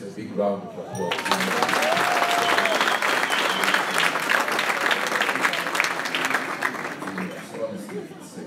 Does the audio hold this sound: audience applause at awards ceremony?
yes